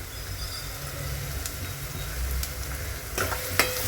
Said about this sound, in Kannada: ಚೆನ್ನಾಗಿ ಇನ್ನೊಂದು ಸಲ ಫ್ರೈ ಮಾಡ್ಕೊತೀನಿ.